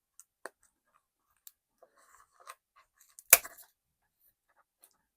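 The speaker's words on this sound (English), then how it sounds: "I need to cut this edge off." Scissors cutting off the edge of a paper sheet for a junk journal, a few sparse quiet snips and clicks followed by one sharp, louder cut, close by in a quiet room.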